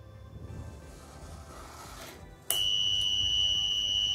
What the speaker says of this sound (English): Here you can see the bulb started glowing and the buzzer is buzzing out.